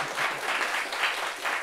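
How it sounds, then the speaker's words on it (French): Audience applause at a French gathering, a brief, fairly quiet burst of steady clapping with no talk over it. "On peut applaudir déjà."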